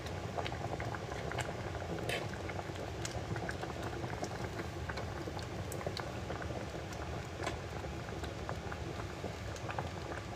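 Rice boiling in a small, overfilled pot, a steady dense bubbling and crackling that runs without pause at close range, with no voices over it.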